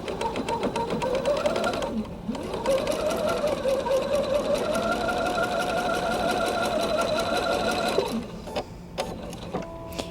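Sewing machine stitching the last seam of a Bear Paw quilt block, a steady close mechanical whirring run of several seconds that slows and stops, with faint clicks after.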